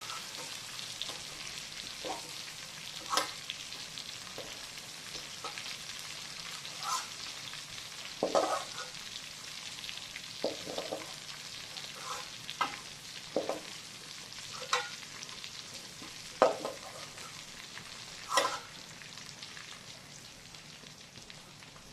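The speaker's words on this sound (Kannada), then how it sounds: "ಇದು ಫ್ರೈ ಆಗಬೇಕು ಕೂಡ, ಚೆಂದ ಮಾಡಿ ಫ್ರೈ ಆಗಬೇಕು." Chicken fry masala sizzles in a pan, a steady hiss punctuated by irregular scrapes and clinks of a spoon stirring, each stroke fairly close and distinct.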